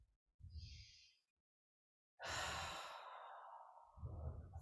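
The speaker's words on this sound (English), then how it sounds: "you just take a few breaths in this kind of reachy type" Slow breaths during a restorative yoga stretch with a bolster: a soft exhale, a silent pause, then a long, loud breathy sigh that trails off.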